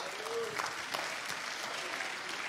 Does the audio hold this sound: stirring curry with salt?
no